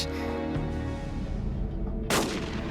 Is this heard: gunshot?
yes